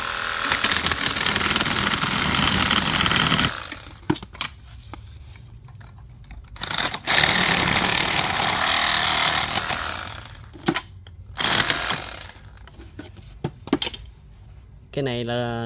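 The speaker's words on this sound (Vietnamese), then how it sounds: "mình sẽ cưa thử ván nha" A loud handheld reciprocating saw buzzes through a small wooden board in bursts, stopping and starting between cuts, with brief talk and clatter in the gaps.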